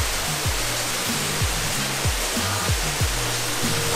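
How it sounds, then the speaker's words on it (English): A waterfall's steady rushing roar heard up close on a slippery trail, loud and continuous, with a few faint low thumps underneath. "Waterfall's cool."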